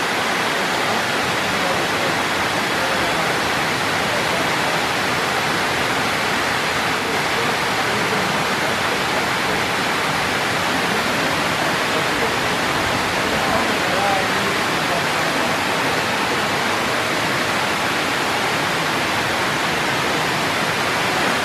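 Sherman Falls roars as a steady, dense broadband rush of falling water, loud and unbroken from start to end, with faint voices mixed in.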